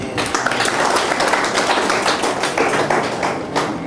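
Light audience clapping at a Hindi astrology lecture, a steady patter of many hands kept up for about four seconds, close and fairly loud with no voice over it.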